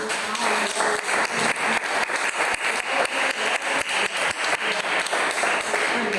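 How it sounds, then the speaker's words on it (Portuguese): A church congregation claps together for Jesus during a morning service, a dense, steady run of hand claps with a quick, even rhythm that fills the room continuously. "Aplauda Jesus se você puder."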